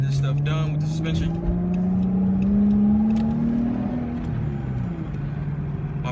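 Dodge Charger engine pulling hard under acceleration from inside the car, a loud rising drone climbing steadily in pitch then easing off, with a person talking over it at the start.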